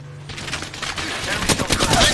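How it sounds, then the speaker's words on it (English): A rapid fusillade of video game gunfire starts after a quiet moment and builds into close, loud, rattling bursts, with talk faintly underneath. "I am taking fire."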